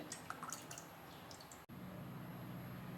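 Cucumber juice is poured from one vessel into a cup, giving faint liquid trickles and drips, quiet and close, with a brief cut partway through and no voices.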